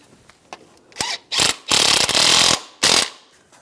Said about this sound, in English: put the nut on, and we'll tighten that down